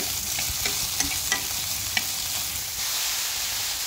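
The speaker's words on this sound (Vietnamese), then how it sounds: "em sẽ cho gà mà chúng ta đã xé rồi chúng ta sẽ cho vào xào" Shredded chicken is stir-fried with fried shallots, oyster sauce and fish sauce, a steady close sizzle broken by several light clinks and scrapes of the spatula stirring in the pan, with no talk.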